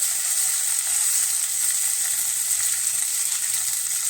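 Tomato hits hot oil in a pan with cumin and fries in a loud, steady, hissing sizzle that holds evenly throughout without talk.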